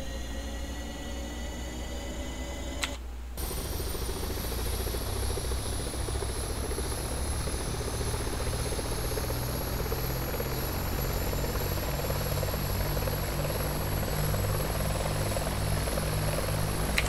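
A Bell 412 helicopter in the X-Plane 11 flight simulator spins up its rotor: a steady loud turbine whine and rising rotor drone, with a brief cut near the start, then a continuous strong hum throughout.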